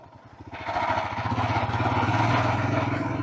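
A Royal Enfield Himalayan 411 motorcycle on an off-road test ride, its single-cylinder engine rising from a low thump to a steady, loud throbbing drone with wind noise over it.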